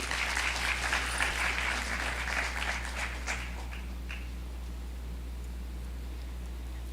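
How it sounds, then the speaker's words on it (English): An audience at a student theatre event claps for a speaker coming up to give greetings, a moderate round of applause that fades out after about four seconds, leaving quiet room hum. "Can we give her a round of applause"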